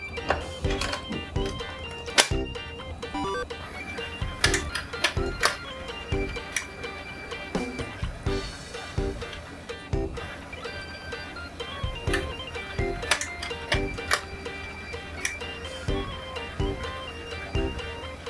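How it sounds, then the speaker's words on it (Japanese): A disk drive reads a disk card while its head arm is pressed down, giving repeated dry mechanical ticks and clicks in an irregular rhythm, close and fairly clear throughout. "こちらのアームを少しディスクカードに押さえつけて読ませてみたいと思います。"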